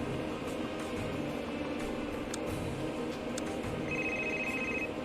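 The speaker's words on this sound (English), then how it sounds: "I don't like when phone rings." Telephone ringing in the video game Door Kickers 2, a fairly quiet electronic ring with short repeating bursts over a low in-game background hum, a clear sustained ring tone near the end, no talk.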